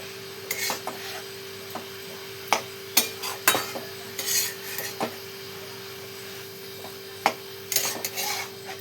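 A radish vegetable dish is stirred in a pan, with irregular scraping and knocking strokes of a spoon against the pan over a low steady hum, no talking.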